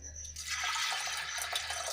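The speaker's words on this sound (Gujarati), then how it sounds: "હવે એમાં આપણે અડધા ગ્લાસ જેટલું પાણી એડ કરીશું" Half a glass of water is poured into a pressure cooker holding soaked mung beans, a steady close splashing pour lasting under two seconds.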